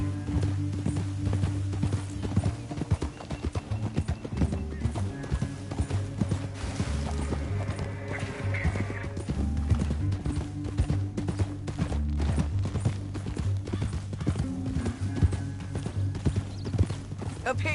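Horse hooves galloping in the video game Red Dead Redemption 2, a fast, steady clip-clop rhythm, close and continuous, with scattered clatter and a brief whinny-like sound in the middle.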